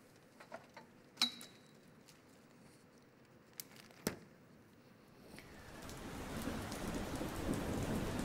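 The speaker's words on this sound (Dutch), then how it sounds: "Zoals u ziet, maar ook hoort, hebben we te maken met extreem slecht weer." Heavy rain in a thunderstorm, quiet at first with scattered ticks and knocks, then a steady hissing downpour swelling in over the last few seconds.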